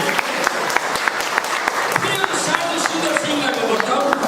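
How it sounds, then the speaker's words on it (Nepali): A church congregation claps for the twelve disciples, a loud, sustained round of applause with sharp individual claps standing out, and a voice sounding under it. "एकपल्ट हामी यो 12 जना चेलाहरूलाई ताली बजाउनेछौँ"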